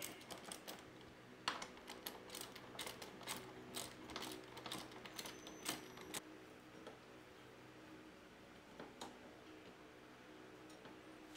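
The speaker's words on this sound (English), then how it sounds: "Need to take these two bolts underneath off here." A spanner works bolts loose underneath a Royal Enfield Interceptor 650 while a rear luggage rack is fitted, giving faint, close, irregular metallic clicks and ratchet-like ticks that cluster early and then thin out over a quiet background.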